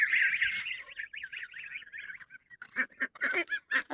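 Farm geese honk in a close, loud series of nasal calls, a wavering run of honks followed by several sharp separate blasts, with no talk.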